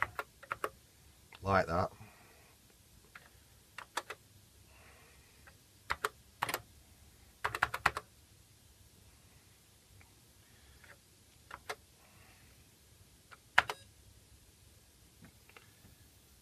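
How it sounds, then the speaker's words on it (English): Keys clacking on a ZX Spectrum 48k rubber keyboard while typing in BASIC, scattered bursts of taps with pauses between, fairly close, with brief speech at one point. "I actually have to type now, print,"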